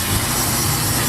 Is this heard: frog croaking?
no